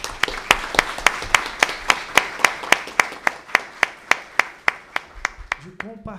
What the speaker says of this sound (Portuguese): dar uma salva de palmas para ela